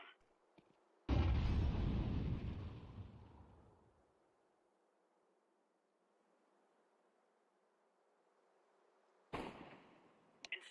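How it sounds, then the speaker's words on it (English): A flashbang grenade detonates in a video game with a single loud, close blast that decays over a few seconds, followed by a quiet stretch and then another sharp burst near the end. "Flashbang."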